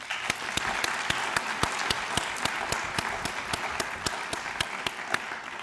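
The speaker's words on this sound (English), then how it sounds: "let's give them a round of applause" Sustained audience applause fills a Hall of Fame reception honoring educators, steady and fairly loud, with sharp individual claps standing out rhythmically throughout.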